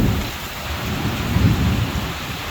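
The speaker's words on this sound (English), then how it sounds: "I got a few things put away out of this blowing rain here." Wind-driven rain with rumbling thunder during the rainy season at a boat club in Iloilo, a dense steady patter over a low roll that swells midway.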